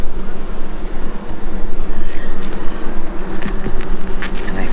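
Honeybees buzzing steadily in an open beehive during a box addition, a dense close hum with a few brief higher whines as individual bees pass near.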